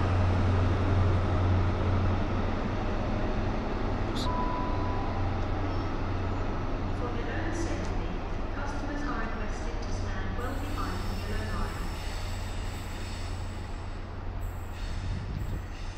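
Train 43031 at Bath Spa station gives a steady, low diesel rumble that runs the whole time, with faint voices in the background.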